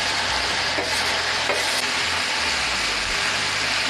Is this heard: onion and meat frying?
yes